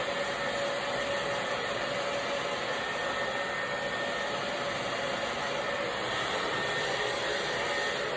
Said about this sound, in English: direct my dryer up and away from her face